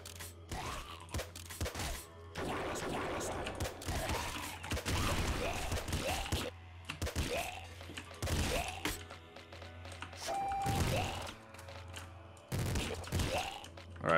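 Minigun and auto crossbow firing in the top-down shooter Nuclear Throne: a fairly quiet, busy stream of rapid mechanical shots and twanging bolts, broken into bursts, with game effects chirping throughout.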